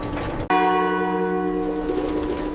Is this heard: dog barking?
no